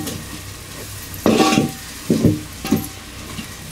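Goat head curry being stirred and mixed in a pan, with spice and chilli added: three loud bursts of scraping, clattering stirring over a low steady sizzle, without talk.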